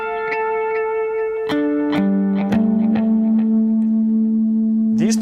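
An electric guitar harmonic phrase played through effects, with chiming plucked harmonics, sliding sustained notes and shimmering echo tails, close and clear.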